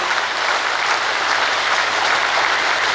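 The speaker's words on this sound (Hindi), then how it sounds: "ईश्वरीय जन्म की खुशी में जोरदार अब एक ताली बजाओ ताकि पूरे बेतिया में आवाज पड़े।" A large audience claps loudly and steadily at a spiritual gathering in Bettiah, Bihar, a dense continuous wall of applause with no voices over it.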